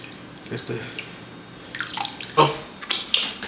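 Salted caramel whiskey is poured into a tres leches cake in short spurts, making brief liquid splashes and drips separated by quiet gaps.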